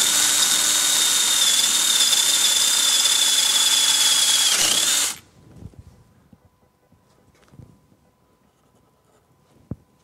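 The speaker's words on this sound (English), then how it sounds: "I need to just drill it this hole a little bit and then tap it" A power drill with a 13/32 bit runs steadily at high pitch for about five seconds boring into a Rotax 700 snowmobile engine head, then stops abruptly, leaving near silence with a few faint clicks and taps.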